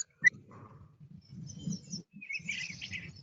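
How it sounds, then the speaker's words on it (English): Eastern bluebird song played back from a video: a low-pitched warbling phrase with soft chirps, fairly faint and heard alone against a quiet background. "the song of the bluebird, and we're going to play a video here so you can see and hear it, low-pitched warbling song"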